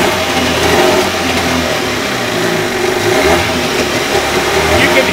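A repaired starter cranks a car engine into life, followed by a steady running drone with a few revs rising and falling, loud and close, with some voice mixed in.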